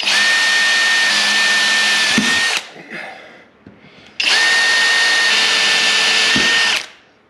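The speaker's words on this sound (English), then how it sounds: "This stuff is so soft that your drill bit tends to walk" A power drill boring into soft metal whines loudly at a steady high pitch, stops briefly with faint scraping, then bores again in a second long run before cutting off.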